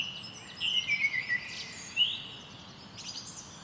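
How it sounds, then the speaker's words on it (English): Synthetic birdsong from a Messiaen-inspired bird delay script runs on a Norns sound computer: bright, sliding chirps and whistles in short phrases over a soft ambient wash, fairly clear with no voices. "here we are, greeted with our lovely bird and a bit of atmosphere"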